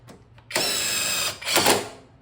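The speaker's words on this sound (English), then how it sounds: "Hit that bad boy with that drill." A power drill whirs in two loud bursts, the first about a second long, the second shorter, with a quiet pause between them.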